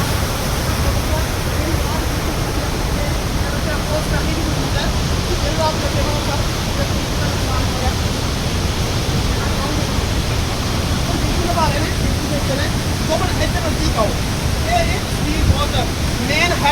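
Water pours out of a full dam's headworks at Madhopur in one steady, dense roar that never lets up, loud and close throughout.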